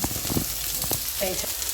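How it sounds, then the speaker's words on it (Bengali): Soft crackling sizzle of boiled soybean chunks frying in oil in a wok, with faint voices or clatter mixed in nearby. "সিদ্ধ রেখে দিয়েছিলাম এখন একটু ভাজা করে নিচ্ছি"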